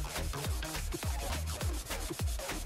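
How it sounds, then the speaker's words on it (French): Knife blade being hand-sanded with 120-grit abrasive: steady, loud rasping strokes in a regular back-and-forth rhythm, close up, with no talking. "On va passer au 120. On va repasser en ponçage dans ce sens-là."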